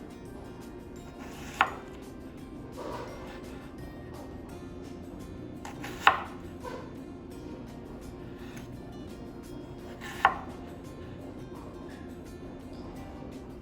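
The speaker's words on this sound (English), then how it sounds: "now that my onion is cut lengthwise" Three sharp knife strikes against a cutting board while an onion is cut lengthwise, evenly spaced about four seconds apart over a steady low background hum.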